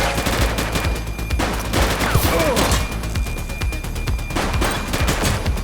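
Dense automatic gunfire crackles through a police shootout in the video game The Precinct, with overlapping bursts and single shots firing nearly nonstop at close range and high volume.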